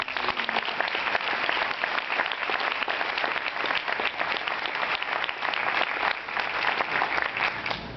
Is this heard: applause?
yes